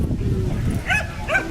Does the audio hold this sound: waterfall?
no